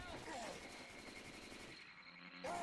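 Sustained rapid gunfire is directed at the Tank in the co-op video game Left 4 Dead 2, a dense, continuous burst of shots under faint game noise, briefly thinning before resuming.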